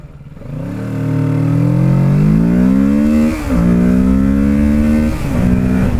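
A Kawasaki Ninja 650 motorcycle, a 2024 model, accelerates hard from 0 to 60 on an open national speed limit road. The engine note climbs loud and steady through the revs, with brief dips at two gear changes before rising again.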